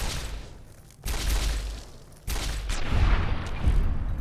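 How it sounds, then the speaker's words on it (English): Rifle gunfire in Fallout New Vegas around Goodsprings: two sharp, loud shots about a second apart, each trailing into a noisy rumbling decay, with no talk. "Or I can just rifle them"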